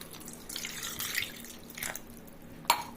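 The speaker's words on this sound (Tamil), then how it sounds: "இப்போ இதுக்கு தண்ணி ஊற்றிக்கிடலாம்" Water poured into a pot of chopped ingredients while cooking a Tamil home-style lunch, a broad splashing pour in a few surges with a sharp clink near the end.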